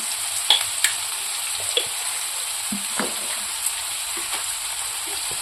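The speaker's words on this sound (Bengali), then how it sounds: "মূলোটা ভাজা ভাজা হয়ে গেছে" Radish pieces fry in a pan with a steady, close sizzle, broken by a few sharp spatters and light stirring clicks.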